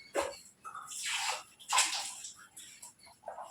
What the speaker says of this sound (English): Now first let me wash my hands.